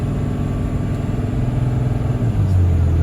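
Cummins diesel truck engine under steady partial throttle while towing a load of hay, a loud continuous low rumble with a slight rise in pitch toward the end.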